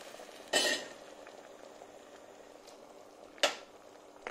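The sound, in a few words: vegetable ratatouille with zucchini simmering on the stove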